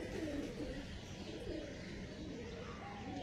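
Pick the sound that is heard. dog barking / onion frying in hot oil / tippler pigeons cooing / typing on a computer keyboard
tippler pigeons cooing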